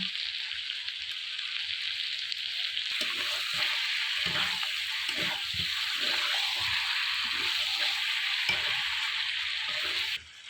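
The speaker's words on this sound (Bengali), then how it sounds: "ভালো করে চিকেনটা কষিয়ে নেব" Chicken sautés in a pan with green chilies and salt, sizzling steadily and close up while a spoon stirs it with soft scraping knocks.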